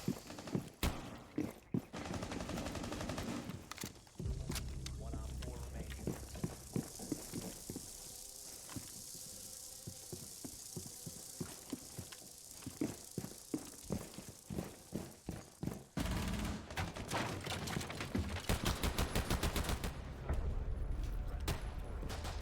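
Pistol fire in a video game rings out in rapid, uneven volleys of sharp cracks, dense at the start and again near the end with a sparser stretch between, loud and close with no talking over it.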